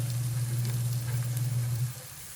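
Chopped tomatoes sauté in a kadhai over golden fried onions, a steady close sizzle with faint stirring noises and a low constant hum that drops away near the end, no talking.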